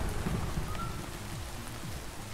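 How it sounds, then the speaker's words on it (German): Rain falling in the video game Minecraft, a dense, even hiss of steady rainfall with low rumbling underneath, continuous and moderately loud without voices. "Übrigens, wenn es regnet, werden die Beete auch nass."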